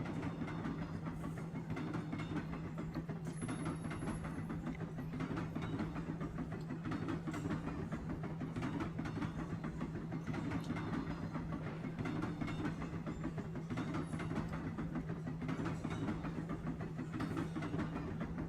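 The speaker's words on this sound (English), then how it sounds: "The sky is dark out as the train continues to chug along." A train chugs along the rails at night with a steady, unbroken rolling rumble and a faint rhythmic clatter underneath. It stays even in level for the whole stretch, with no voices.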